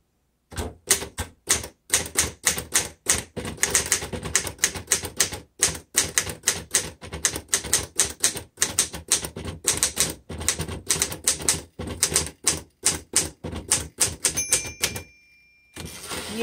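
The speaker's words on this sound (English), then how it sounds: "let's try the red ribbon" A 1947 Royal Upright Standard typewriter with a red ribbon is typed at a steady pace, crisp loud key strikes in quick bursts with brief gaps, close and alone, ending with a short pause and a few last clacks.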